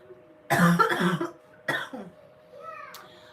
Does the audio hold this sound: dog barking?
no